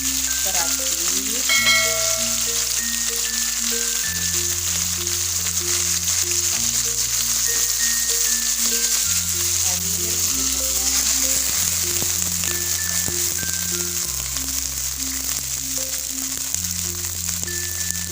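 Chili, tomato and shrimp paste go into a pan for stir-fried water spinach, sizzling loudly and steadily while a music track plays over the top with no break in the frying.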